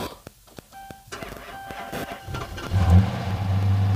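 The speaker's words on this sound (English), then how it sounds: "I'm still gonna start it up and see if it starts." A Honda Accord at a Copart salvage yard cranks with a few sharp clicks and starter whirs, then catches and settles into a loud, steady low idle; a rooster crows faintly in the background.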